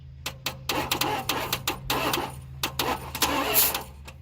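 A Dodge Ramcharger left sitting in the weeds cranks over on its starter, a rapid uneven rhythm of chugging compression beats with a steady low hum underneath, loud and close, with no voices.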